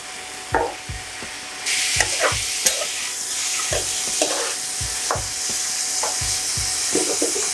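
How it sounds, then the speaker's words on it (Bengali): Fresh prawns frying in oil in a pan on an induction cooker, with a continuous sizzle under repeated scraping and clacking strokes of a spatula stirring them, close and clear, with no talking. "তো আমি এটাকে ভালোভাবে ফ্রাই করে নেবো চিংড়ি মাছ থেকে"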